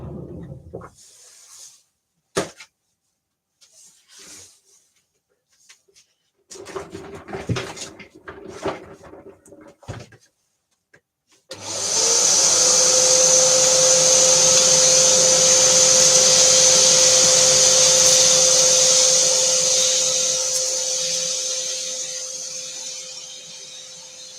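Scattered bumps and rustles, then a vacuum cleaner switches on and roars steadily for several seconds, with a constant whining tone running through it.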